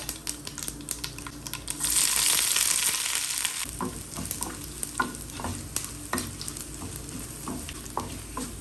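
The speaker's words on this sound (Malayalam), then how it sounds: "കുറച്ച് വെളിച്ചെണ്ണ ഒഴിച്ച് കടുകിട്ട് രണ്ട് പത്തൽ മുളകൊക്കെ ഇട്ട് കൊടുത്ത്" Mustard seeds and dried red chilies fry in hot coconut oil, a loud hissing sizzle bursting up early, then easing into scattered sharp pops and crackles as the seeds burst, close by with no speech.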